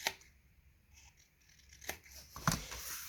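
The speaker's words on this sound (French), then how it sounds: "Donc on coupe les coins" Scissors snip the corners of scrapbook paper for an album cover, a few quiet, close cuts with a rustle of paper and a sharper snip near the end.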